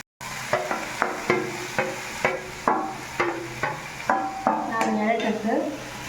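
Grated coconut being stirred into an ivy gourd stir-fry: a steady series of about a dozen regular scraping knocks of a spoon against a pan, with a faint sizzle underneath.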